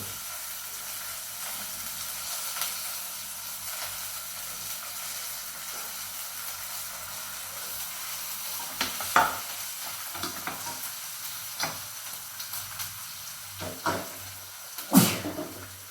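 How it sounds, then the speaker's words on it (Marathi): Finely chopped cabbage fries in a pan for cabbage bhaaji, a steady soft sizzle carrying on throughout, joined later by intermittent louder scrapes and clinks of stirring. "हळूहळू सगळा बारीक चिरलेला कोबी आपण त्यात टाकून घेऊ"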